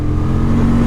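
A 2023 Honda Transalp motorcycle pulling hard in fourth gear, its engine a steady loud drone heard close from the rider's position, with no speech over it.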